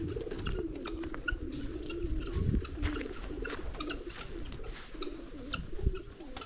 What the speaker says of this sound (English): here we normally call the dove like that